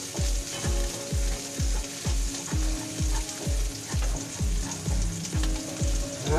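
Steady sizzling of star anise dropped into hot cooking oil for Filipino pork humba, with regular rhythmic scraping strokes of a utensil stirring in the pan, close and continuous.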